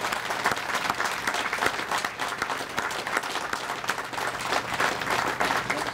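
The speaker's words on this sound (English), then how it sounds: "let's give our business neighbors a big round of applause" A crowd at a community gathering for a Winston-Salem general store breaks into sustained, dense applause, loud and steady from start to finish.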